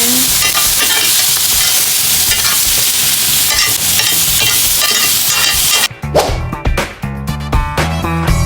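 Vegetables with sauce are stirred in a hot frying pan: a loud, continuous sizzle with scraping, then sharper irregular knocks and scrapes of the utensil against the pan as the frying quiets.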